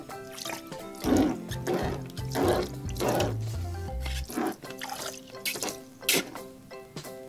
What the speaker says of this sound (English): Let's have Donald Duck shoot some water out.